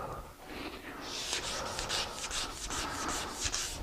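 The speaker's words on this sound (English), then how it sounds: "Now I'm just using this like a card scraper." Razor blade used like a card scraper, scraping a glue spot off a wooden Morris chair part: a close, continuous series of short rasping strokes repeating rapidly, fairly loud and alone.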